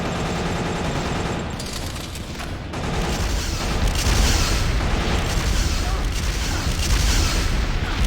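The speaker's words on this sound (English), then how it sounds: "That's a lot of missiles." A heavy barrage of missiles exploding in a video game, with dense overlapping booms and rumbling blasts rolling on for several seconds, loud and close.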